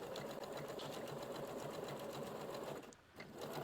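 A sewing machine stitching trim on a dress runs in a steady, fast, even hum, with a brief pause near the end before the stitching resumes, fairly quiet and close with no voices.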